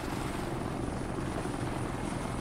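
A helicopter in the military shooter game Insurgency, a steady loud rotor and engine roar filling the whole stretch, constant and close with no talking.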